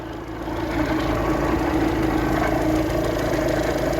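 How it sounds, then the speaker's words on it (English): A junkyard K-car engine with an exhaust leak idles with a rough, ticking, uneven rumble that swells slightly after the first second and holds steady, close by. "I think it's got an exhaust leak too"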